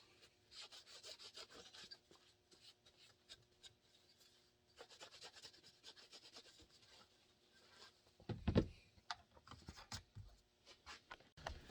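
Hand rubbing across a mold surface during prep work, soft intermittent scrubbing strokes in short bursts, quiet and close, with a louder clattering handling noise near the end.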